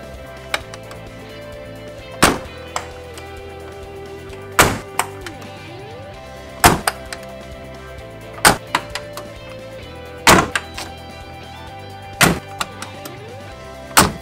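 Six heavy, solid thunks spaced a couple of seconds apart, each a sharp, loud slam of a Mercedes G-Class door with a brief ringing decay.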